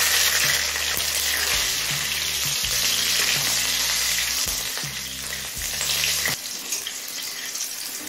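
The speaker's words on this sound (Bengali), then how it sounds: "কাঁচা লঙ্কাটা মিনিট খানেক লো ফ্লেমে ভেজে নিলাম।" Torn green chillies fry on low flame in oil with cumin, bay leaf and a dried red chilli, giving a steady close sizzle throughout, with clunks of a spoon against the pan over a low-pitched hum and a sudden drop near the end.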